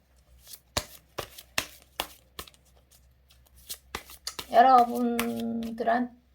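Tarot cards are handled, tapped and drawn in a run of sharp separate snaps and flicks, then a brief riffle shuffle, while a voice speaks near the end.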